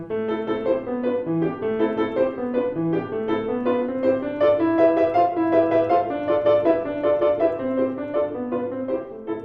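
Solo piano playing Kabalevsky's Toccatina, a quick run of repeated chords shifting across the keyboard over a steady low line, played continuously at moderate loudness with no talking.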